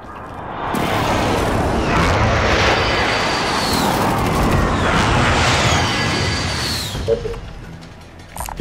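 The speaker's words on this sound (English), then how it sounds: "Be advised, friendly precision airstrike inbound." A precision airstrike in Call of Duty: Modern Warfare: a loud, sustained roar of jets and heavy rumbling explosions filling several seconds, fading slightly before a sharp final impact.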